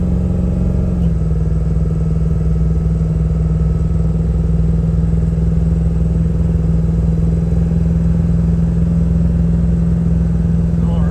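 A 2003 Ford F250 pickup with a 7.3 Powerstroke diesel, hauling firewood up a big hill, sends out a loud, steady engine drone with a constant low hum, heard close and continuous throughout with no talking.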